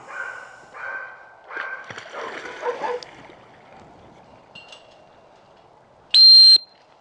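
A single loud, sharp dog training whistle blast with a bright steady pitch cuts in near the end, following several shorter tonal chirps and some outdoor rustling.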